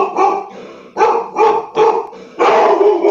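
Dogs barking indoors at a home in a run of loud, close barks, four or five sharp bursts in uneven rhythm with short gaps, the last one longer and rougher.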